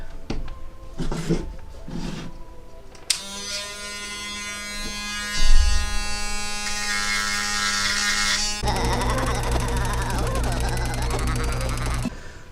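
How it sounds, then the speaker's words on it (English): Small rotary grinder buzzing as it removes bits of glitter from a Halloween upcycling craft piece, a loud close whirring that starts and stops in bursts, with pitch and strain shifting as it bites into the surface. "I am going to go in with my trusty grinder, and I'm going to go ahead and remove all these like little bits of glitter"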